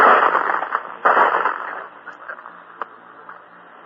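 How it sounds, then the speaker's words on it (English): Bullets fired in wartime combat, caught from a foxhole in a 1944 radio broadcast: sharp cracks and pops over a crackly, band-limited background, with a few isolated bursts of fire. "Those, my friends, are bullets."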